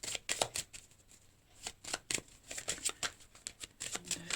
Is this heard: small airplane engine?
no